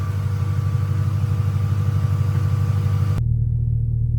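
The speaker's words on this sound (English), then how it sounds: "here we are idling in gear after about a 10-minute drive and AC off" A Mustang GT with a 4.6 2-valve V8 that has had oil-pressure trouble idles in gear with the AC off after a ten-minute drive: a close, low, even rumble that cuts off abruptly near the end.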